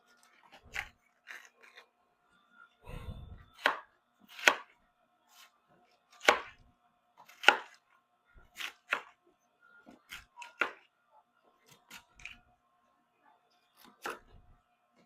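Knife chopping vegetables such as cabbage on a cutting board, a series of separate sharp chops in an uneven rhythm, close and distinct against a quiet background.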